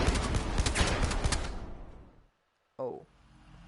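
Dense, loud gunfire fills the VR game Blood & Truth, a rapid burst that fades into silence before one more sharp report.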